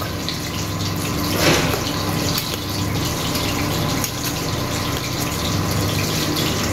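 Hot milk poured over bread in a kitchen for chicken pakoda in white gravy, a steady liquid splashing and gushing sound that runs continuously and fairly loud, with no voices.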